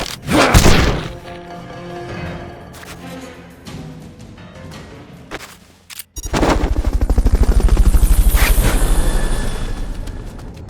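Video game sounds from Metal Gear Peace Walker during a Fulton recovery, with sharp impacts and a burst of rapid gunfire-like thumps followed by a loud, rhythmic pulsing roar like helicopter rotors.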